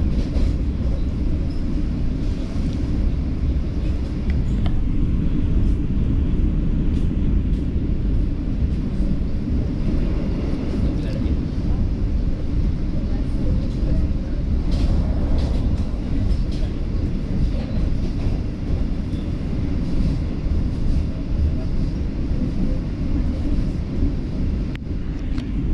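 KA Lodaya passenger train running at speed, a loud continuous rumbling roar with dense low-frequency rattle and occasional brief clanks, steady throughout.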